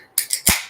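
A small can being cracked open, a quick sharp metallic pop followed by a brief hiss, close and loud, lasting under a second with no talk.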